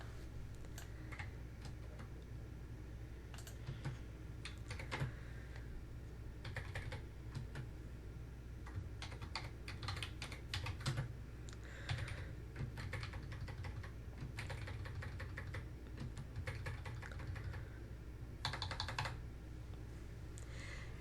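Steady typing on a computer keyboard, with quick clustered keystrokes and brief pauses over a quiet room hum, close and clear, no voices.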